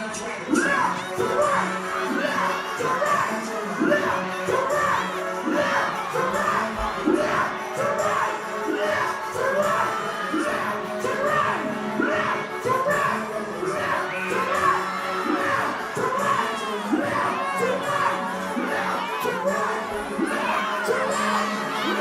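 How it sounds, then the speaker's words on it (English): A dense concert crowd roars continuously, with layered shouting, whooping and cheering voices blending into a loud, steady wall of noise throughout. "Check out the crowd."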